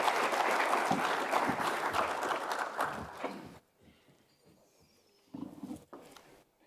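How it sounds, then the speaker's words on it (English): Conference audience claps steadily for a few seconds, then the applause stops abruptly, leaving a quiet room with scattered shuffles and a brief burst of handling noise. "Let's welcome him with a round of applause"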